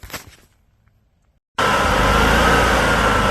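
A sawmill cuts through a log while boards are milled for barn doors. After a brief near-silent pause, a loud, steady, dense roar of blade and engine starts abruptly and holds without a break.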